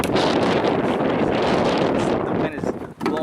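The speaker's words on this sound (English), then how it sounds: "The wind is blowing hard now" Loud, roaring wind buffets the microphone continuously, easing briefly near the end before a last gust.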